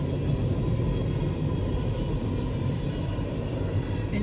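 A passing train in Folkston, Georgia gives off a steady, low rumble from close by, a continuous heavy drone with no voices over it.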